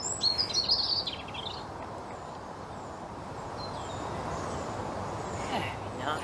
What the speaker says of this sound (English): the blackbirds are tweeting above my head